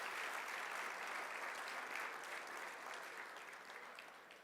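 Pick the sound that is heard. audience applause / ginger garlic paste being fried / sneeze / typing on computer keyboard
audience applause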